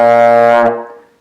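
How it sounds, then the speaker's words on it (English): A low buzzed note on a baritone horn, held steady and loud with rich harmonics for about two-thirds of a second before decaying and trailing away, played alone. "Or you might get an even lower one like this."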